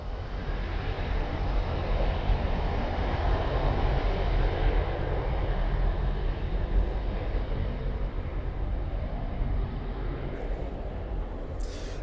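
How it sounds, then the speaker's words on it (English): A Ryanair airliner taking off from the runway at East Midlands Airport, a loud, broad jet engine roar that stays steady and full across the whole stretch, with no talk. "Very short takeoff, roll out from the Ryanair"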